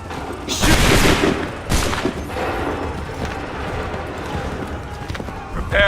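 Musket volley in Assassin's Creed III: a massed crackling burst of gunfire, loud and close, with a second sharp volley following and scattered battle noise and shouting voices continuing underneath.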